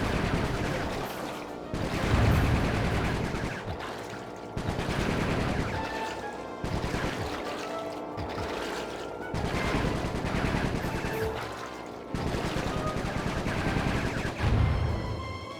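Bursts of rapid automatic gunfire from the video game Sly 3: Honor Among Thieves come in repeated loud volleys separated by brief gaps, with a few heavier booming shots mixed in.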